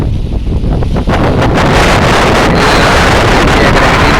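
Strong wind buffets the microphone in a constant loud roar, with a rushing, surf-like wash underneath and no voices, on Puttalam beach, Sri Lanka.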